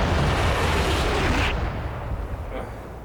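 Weapon fire from the tactical war game Combat Mission rolls as a heavy, booming blast that fades out over a few seconds, with a faint second pop near the end.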